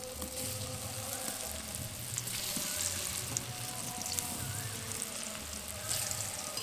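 Banana flower dhoka cakes frying in hot oil, a steady close crackling sizzle with occasional soft pops and faint utensil movement, continuous throughout with no speech.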